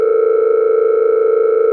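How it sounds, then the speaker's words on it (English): A phone ringback tone on a call: a single steady electronic tone held unbroken for almost two seconds, loud and clean, with no talk over it. "the phone is ringing."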